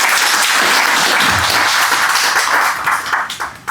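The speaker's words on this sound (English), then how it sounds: "Please give them an applause" Audience applause for panelists taking their seats at a Netherlands Business Council real estate debate panel, loud close clapping that runs strong and then thins into scattered claps near the end.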